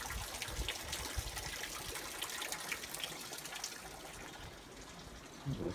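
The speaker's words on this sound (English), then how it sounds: "this creek was a pretty good flowing creek. Had way more waterfall than that." Water from a creek spills over a small waterfall in a steady, close, even rushing trickle that goes on without a break.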